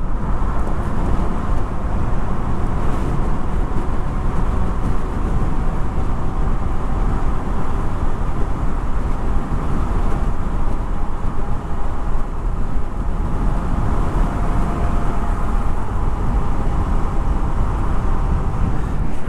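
A Varla Eagle One Pro all-wheel-drive electric scooter running flat out in third gear with the rider tucked low, producing a steady, loud roar of wind and road noise that holds without a break and has no voices over it.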